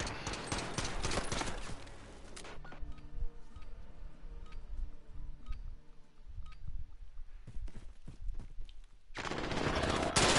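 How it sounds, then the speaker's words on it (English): Sustained rapid gunfire from a large-magazine gun in the Call of Duty video game, dense bursts at the start and end with scattered shots and game sounds between, loud and with no talk. "when you got a magazine that big, just keep firing"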